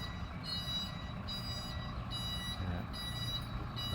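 Trailer truck reversing during driving lessons, its reversing alarm sounding high, regular beeps about every half second over a low, steady diesel engine rumble, at moderate distance.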